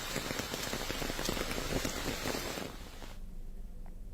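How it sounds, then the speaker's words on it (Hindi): Heavy rain pours down through dense forest in the Abujhmarh jungle near Bastar, a loud steady broadband hiss of drops on leaves that drops away abruptly near the end, leaving a much quieter patter. "तेज बारिश के बीच घने जंगल में यहां से गुजरते हुए"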